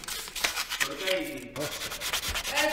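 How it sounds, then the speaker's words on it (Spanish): Soft sandpaper rubs back and forth on a car brake part, a series of rough scratchy strokes heard close up and alone. "Pero con una lija de papel suave, ¿no?"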